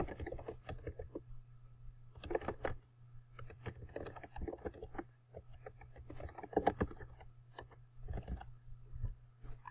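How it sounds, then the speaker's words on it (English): Quiet, rapid keystrokes patter on a computer keyboard in uneven bursts with brief pauses, close and fairly soft, with no one talking. "Let me type that up here."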